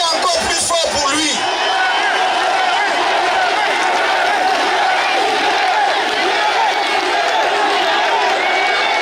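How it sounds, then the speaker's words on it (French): A large crowd at a Cameroonian opposition political rally in Paris cheers, whoops and applauds, a loud sustained roar of voices and clapping, with an amplified voice briefly audible at the start. "Applaudissez encore plus fort pour lui."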